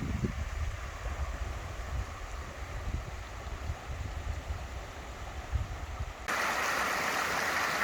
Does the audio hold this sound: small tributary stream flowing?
yes